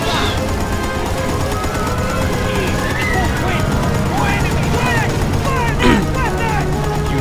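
Sustained .30-caliber machine gun fire in the video game Battlefield: Bad Company 2, a dense, continuous rattle of shots mixed with battle noise and voices in the background throughout.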